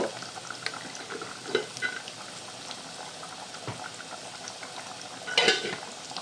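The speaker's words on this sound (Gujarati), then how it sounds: "આપણે બિરયાની ઉકળી ગઈ છે" Soybean vegetable biryani bubbling in a pot, a soft, steady simmer with faint pops and occasional clinks of a utensil, close and quiet with no talk.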